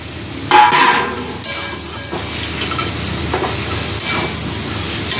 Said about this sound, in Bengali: মশলাটা আমার কষা হয়ে গেছে এবার চিকেনটা দিয়ে দিচ্ছি